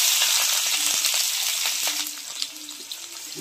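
Onions fry in hot oil with crushed mustard seeds and chillies for a vegetable biryani, giving a steady, close sizzle that stays loud throughout, with a few faint clinks of stirring.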